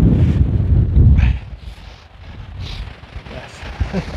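Strong wind buffeting a microphone beside the River Humber, loud rumbling gusts that peak early, ease off, then return in smaller bursts.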